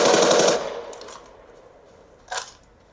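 Gunshots in a video game: a rapid burst of automatic fire at the start, then a couple of fainter shots and one sharp single shot later, with decaying echoes between them.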